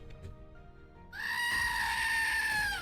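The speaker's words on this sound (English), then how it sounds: "And here is the goat scream." A single long goat scream erupts after a quiet moment, a loud, harsh, sustained cry that holds steady close up until the end.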